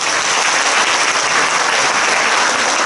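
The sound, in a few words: audience applause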